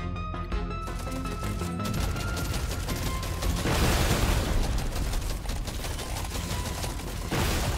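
Explosives blasting enemies in Deep Rock Galactic: Survivor: a crackling barrage of rapid blasts and popping bursts that thickens partway through, layered over steady game music.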